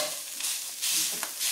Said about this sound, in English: What I'm doing here is just warming the rice through.